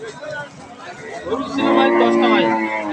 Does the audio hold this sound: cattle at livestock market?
yes